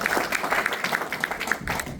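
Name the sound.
applause at a meeting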